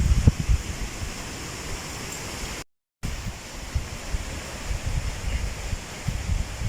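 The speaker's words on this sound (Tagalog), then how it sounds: "Kusog kayo og hangin daray sa gawas." Strong wind blows outside in the countryside, a steady rushing roar with gusty low buffeting against the microphone, broken by a brief dropout.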